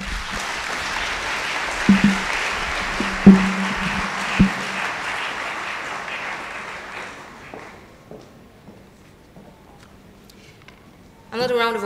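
Applause from a lecture audience at an annual lecture event: a broad wash of clapping that fades out gradually over several seconds, with a few thumps and room noise, then a brief burst of sound at the very end.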